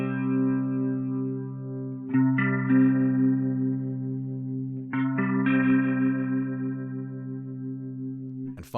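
Sustained electric guitar chords through a rotary pedal emulating a Leslie speaker, with a swirling, wavering modulation spiraling in stereo, struck anew twice and ringing out, ending with a brief sharp transient.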